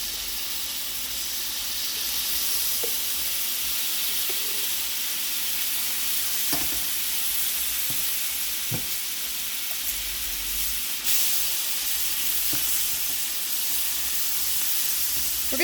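Minced garlic frying in butter in a pan for pork chops, a continuous loud hiss of sizzling fat with a few faint knocks of a utensil, close by and with no one talking.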